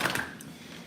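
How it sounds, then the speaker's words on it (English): Tarot cards being shuffled give a brief, close papery riffle and crackle in the first moments, then fade to a faint, quiet hush with no voices. "while I'm shuffling these cards"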